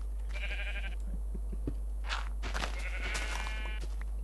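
Minecraft sheep bleating in a mountain area of the video game, several short nasal bleats in a row, clear and close with nobody talking over them.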